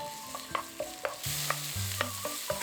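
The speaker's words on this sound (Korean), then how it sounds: "식용유 1~2숟가락, 당근, 양파 넣고 볶아주세요." Carrot and onion stir-fried in a spoonful or two of cooking oil, a steady sizzle with repeated spatula scrapes and taps against the pan, close and clear.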